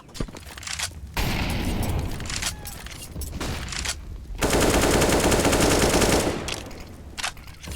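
Rapid automatic gunfire rattles in Counter-Strike on the Inferno map, with several loud sprays broken by short pauses and one long sustained burst in the middle.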